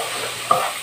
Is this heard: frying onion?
yes